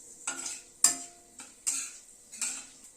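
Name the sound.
whole spices crackling while tempering in hot oil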